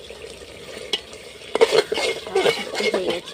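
Handi chicken cooked with tamarind is stirred in a pot, with repeated scraping and clattering strokes over a low sizzle that grow busier and louder toward the end; a voice speaks briefly.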